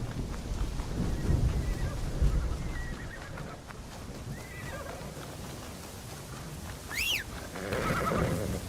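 A horse neighs in the Tainted Grail: The Fall of Avalon video game, a sharp rising whinny near the end over a busy background of game sounds and hoof clatter.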